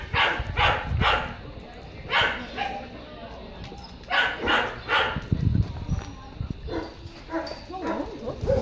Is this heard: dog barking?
yes